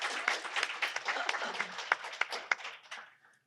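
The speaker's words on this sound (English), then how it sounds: "give her a round of applause" An audience gives a short round of applause at a talk on starting an art business, the clapping fairly faint and scattered, then tapering off to quiet.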